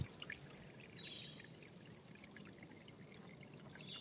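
Spring water flows up out of the ground in a soft, steady trickle, faint and continuous with no talk over it.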